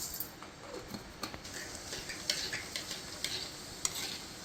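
Urad dal, cumin and mustard seeds fry in oil for Andhra-style mango dal, a faint crackling sizzle with quick ticking pops and light stirring scrapes throughout.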